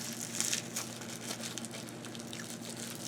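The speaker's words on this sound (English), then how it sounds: "As I cut open the pen." A mail package holding a fountain pen is cut open, with quiet, crinkly rustling and tearing of packaging in short, uneven bursts. No one speaks.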